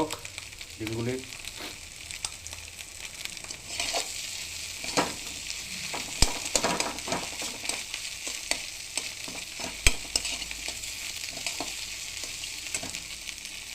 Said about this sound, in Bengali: এগুলো একটু ভাজা হোক ডিমগুলি।